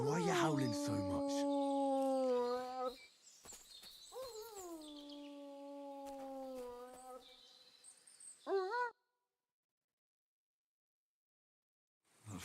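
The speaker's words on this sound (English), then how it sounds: "No wonder the dog's howling like mad." A dog in Kingdom Come: Deliverance II, a medieval video game, lets out several long, drawn-out howls with a few short breaks between them, fairly close, followed by silence.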